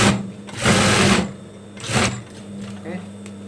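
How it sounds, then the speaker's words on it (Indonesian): A sewing machine runs zigzag stitches along a baby blanket in two bursts of rapid mechanical whirring with a pause between them, while a voice talks over it. "Di sini kita akan jahit juga biar terlihat lebih rapet jigjagannya di sebelah sini juga."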